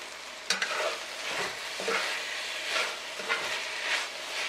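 Pork curry sizzles and caramelizes at the bottom of a pot, a continuous close hiss broken by recurring bursts of stirring and scraping.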